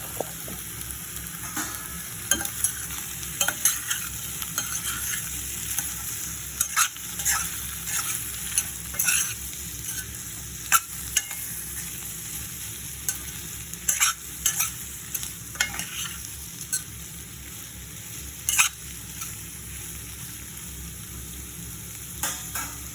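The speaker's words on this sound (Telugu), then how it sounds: "ఇందులో వేసి ఇది కూడా బాగా కలుపుకోవాలి." Mumbai-style potato curry fries in a pan while a spoon stirs it, giving a steady close sizzle broken by frequent scraping and stirring clicks, with no speech.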